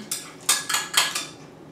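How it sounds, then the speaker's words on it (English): A spoon stirring Dollar Tree clam chowder on a plate, giving four or five short scraping clinks against the dish in an uneven rhythm, close and fairly quiet with no talk. "We may want to stir it a little bit."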